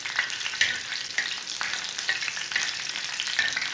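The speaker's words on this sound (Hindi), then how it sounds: "5 चम्मच ऑयल डालेंगे, 7 रेड मिर्चें डालेंगे, 1 सब्ज़ मिर्च, 1 मिनट रोस्ट कर लेंगे।" Seven red chilies and one green chili roast in hot oil with a loud, crackling sizzle and regular soft stirring scrapes. It sounds close-up and continuous, and no one talks.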